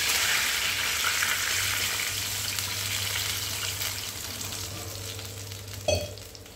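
Water poured into a hot pan of fasting-thali food sets off a steady, broad sizzle. A soft clatter of stirring comes near the end.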